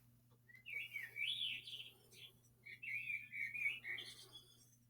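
Birds whistle and chirp in bright, rising phrases at sunrise in a garden, fairly faint, over a steady low hum, with no talking.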